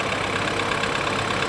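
A 2013 BMW 328i engine runs at a steady idle, a continuous close mid-low hum with no talk over it.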